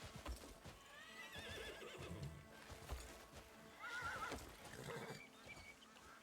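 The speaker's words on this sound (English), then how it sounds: "I found this horse, which I immediately tried to jump on his back to try to tame" A horse in the video game Crimson Desert whinnies over steady clip-clopping hooves, with a second high neigh midway, all at moderate loudness against busy game ambience.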